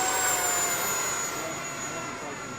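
A model F-106 Delta Dart jet in flight gives a steady, fairly loud turbine roar with a thin high whine running through it, holding constant throughout.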